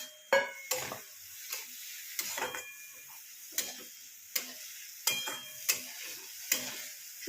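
Soaked dal and dry spices are stirred in a pot, making a run of sharp utensil knocks against the pot at a fairly regular pace. The knocks are separated by near silence, close and moderately loud.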